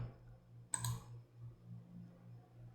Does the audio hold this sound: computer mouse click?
yes